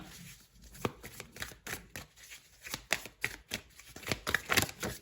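Oracle cards are shuffled, drawn and laid down in a series of short, crisp slaps and shuffles at close range, with quiet gaps between the bursts.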